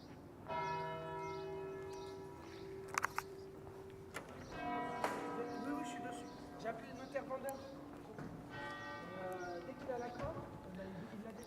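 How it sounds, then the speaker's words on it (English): Church bells of Chartres Cathedral, a UNESCO World Heritage Site in France, peal repeatedly with long ringing tones and overlapping strikes, heard from nearby outdoors while people talk over them. "how long are the bells going to ring? They ring for quite a while."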